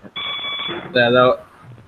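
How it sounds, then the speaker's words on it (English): An electronic alarm tone sounds in two bursts, the second louder and harsher, close by with a faint voice underneath. "smoke alarm or something. Fire alarm."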